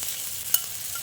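Pointed gourd slices frying in oil with a spice mix, a quiet steady sizzle marked by two small sharp ticks.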